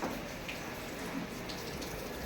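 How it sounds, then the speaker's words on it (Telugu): Steady, soft rainfall hisses continuously throughout, an even wash of drops without voices. "వర్షం అయితే పడుతుంది"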